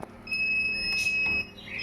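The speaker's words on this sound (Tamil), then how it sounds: "இப்போ டோரை ஓப்பன் பண்ணி வச்சுக்கனால உங்களுக்கு அலாரம் அடிச்சிட்ருக்கு" A shrill electronic door-open alarm on an automatic egg incubator sounds a continuous high-pitched tone with faint pulsing beeps, steady and close, with no talking.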